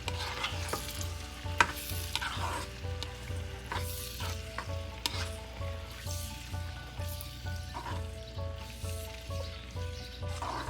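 Garlic, ginger and large tomatoes fry in a pan for tomato paneer pickle while being stirred. A soft, steady sizzle runs under repeated scraping and stirring strokes heard up close.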